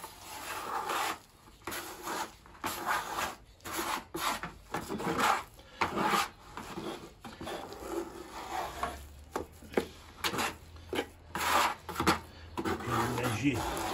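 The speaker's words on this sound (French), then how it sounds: "Maintenant, on va gratter." Old swimming-pool tile joints being scraped out by hand, with repeated close, gritty rasping strokes in irregular bursts and short pauses, while someone talks over part of it.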